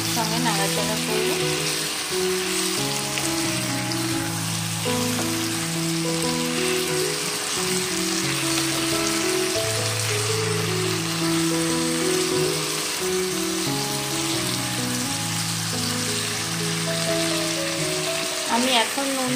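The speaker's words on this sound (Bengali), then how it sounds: "সবজিগুলো দিয়ে একসঙ্গে ভাজবো। এবার আমি এটা একসঙ্গে নাড়াচাড়া করবো।" Vegetables frying and being stirred in a hot pan while a rui fish curry is prepared: a steady, close sizzle that runs throughout, with background music playing underneath.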